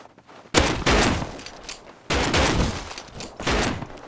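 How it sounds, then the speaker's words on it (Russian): Gunfire in the survival game Rust arrives as two long, dense bursts of rapid shots separated by a brief pause, loud and close, with no talk over it. "Они по мне стреляют"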